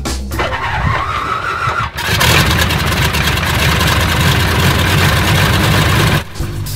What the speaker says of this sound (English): If you don't love the sound of a big radial engine firing up